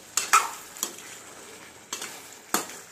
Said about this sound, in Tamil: பெப்பர் போட்டு நல்லா வதக்கிக்கோங்க.